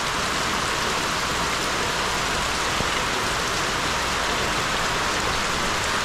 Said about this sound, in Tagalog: Salamat Panginoon sa ulan.